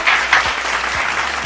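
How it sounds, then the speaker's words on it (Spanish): Audience applause for guest Fred Villalobos on a Spanish-language broadcast, a dense burst of clapping in a studio, steady and moderately loud over a brief stretch. "un fuerte aplauso para él"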